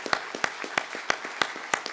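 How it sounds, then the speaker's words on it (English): Scattered, fairly sparse clapping from a small audience at a water environment association awards event, sharp individual claps spaced at a slow, uneven rhythm with no voices over them. "Give them a round of applause for their effort."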